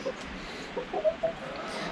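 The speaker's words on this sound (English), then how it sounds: "He's a rooster." A rooster gives a few short, soft clucks, scattered and fairly quiet against a faint background hiss.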